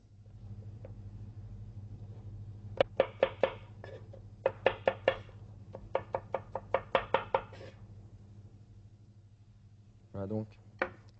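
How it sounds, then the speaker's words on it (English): Quick bursts of knife taps on a cutting board as mushrooms are finely chopped, rapid rhythmic chopping in several runs over a low steady hum. "You have to cut them up very fine."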